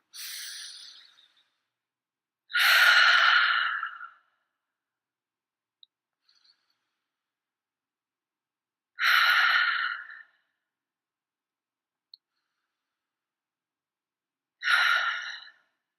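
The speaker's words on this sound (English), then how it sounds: "let's take a few deep breaths here" Slow, deep breaths during an EFT tapping session, four separate airy inhales and exhales spaced several seconds apart with silence between them, close and clear.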